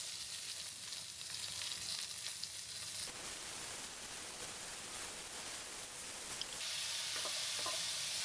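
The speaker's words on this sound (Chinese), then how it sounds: "炒一炒" Chopped garlic and tomatoes stir-fry in a hot pan, giving a steady close sizzle with faint stirring scrapes throughout, brightening slightly toward the end.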